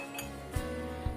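A spoon clinks against a vessel while custard powder is stirred into milk, three light, sharp metallic taps spaced about half a second apart over quiet background.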